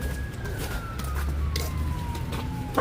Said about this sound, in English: I'm surprised I'm hearing a siren this early.